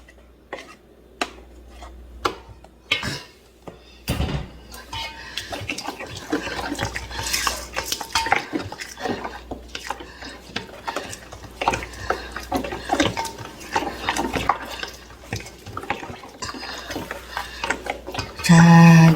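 Wet squelching and clinking as kimchi seasoning is mixed with rice paste in a bowl for young radish kimchi, irregular sloppy stirring sounds up close with no talk.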